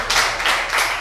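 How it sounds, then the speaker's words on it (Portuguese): An audience claps in short rhythmic bursts, three or four loud swells of many hands close by, with no speech during the brief stretch. "Vamos aplaudir?"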